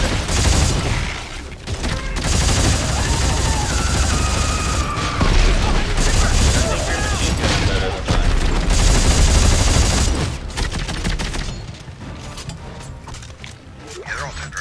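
Rapid gunfire and mechanical clatter from shooting enemies in the Dead Space 3 video game, loud and dense for about ten seconds before thinning out, with voices talking over parts of it.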